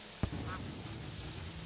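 A short duck quack from the video game Terraria, a brief nasal call standing out over a steady background hum of game ambience, with no talking.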